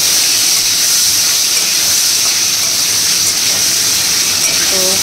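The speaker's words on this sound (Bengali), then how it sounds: "তো আলুগুলো হালকা ফ্রাই করে নিই।" Potato pieces fry lightly in hot oil for a fish curry with brinjal, giving a loud, continuous steamy hiss that stays even from start to finish.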